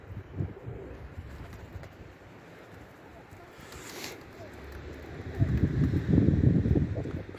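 A flock of pigeons overhead on a cold Istanbul evening, with soft cooing and a rush of wings and wind growing louder toward the end.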